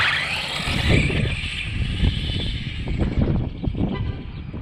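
A Traxxas Slash RC car with an upgraded motor, built as a no-prep street eliminator, runs in cold weather with a steady whining buzz and repeated throttle surges, close and fairly loud throughout.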